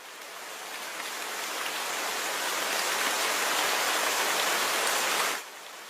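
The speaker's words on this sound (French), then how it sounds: "Un jour, une forte pluie tomba." Dense, heavy rain pattering steadily on burdock leaves, a broad rushing hiss that swells slightly, then drops to a softer patter near the end.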